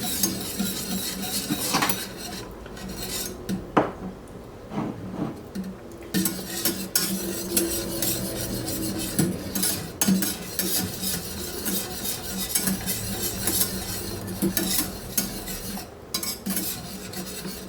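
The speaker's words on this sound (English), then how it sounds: "You just whisk it in." A whisk works butter into a sauce in a pan over very low heat, giving steady scraping swishes and light metallic clinks against the pan, close and continuous with no talking.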